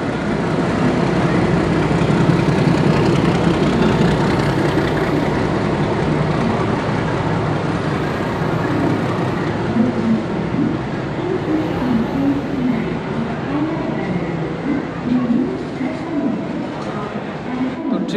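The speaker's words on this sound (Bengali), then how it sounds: "8 নম্বর প্ল্যাটফর্মে আমাদের 12321 হাওড়া মুম্বাই মেল কিন্তু দিয়ে দিয়েছে।" The 12321 Howrah–Mumbai Mail standing at platform 8 of a busy station: a steady, loud low rumble of the train and platform ambience, with faint crowd murmur underneath.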